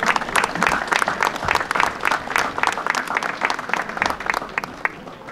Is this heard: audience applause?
yes